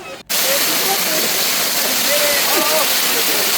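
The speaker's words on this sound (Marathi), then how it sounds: "पहिल्याच धबधब्यात पोहण्याचा आनंद अनिकेतला काही आवरेनासाच झाला होता" A loud, steady rush of a forest waterfall on the Andharban trek fills the whole clip, with faint voices of people swimming now and then beneath the roar.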